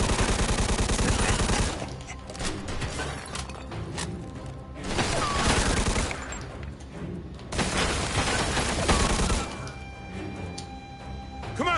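Gunfire in Mafia II Definitive Edition erupts in repeated loud bursts of automatic shooting and impacts, with brief lulls between volleys and game voices shouting over the fight.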